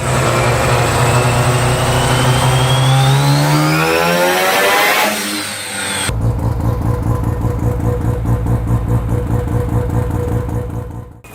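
A high-revving Japanese rotary engine screams and sweeps through its range, then drops into a loud, rough, pulsing idle with a clattering buzz.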